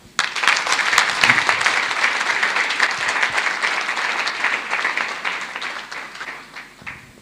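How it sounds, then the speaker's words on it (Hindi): Audience at a direct-selling sales seminar breaks into applause, a loud burst of many hands clapping that swells quickly, holds, then tapers off near the end. "तालियां हो जाए"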